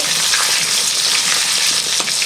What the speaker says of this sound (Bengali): আলুটা এখন গরম তেলের মধ্যে আমি ভেজে নেব।